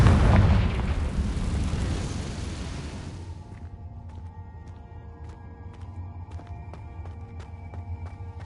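A Confringo fire-blast spell from Hogwarts Legacy erupts in a loud, broad blast that slowly fades over about three seconds. Faint crackling and quiet, ringing chimes follow.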